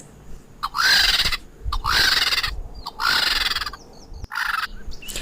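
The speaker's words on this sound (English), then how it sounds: "This is a vulture." A vulture gives four loud, close, harsh calls in a regular rhythm, each a rough rising screech, with brief quiet gaps between them.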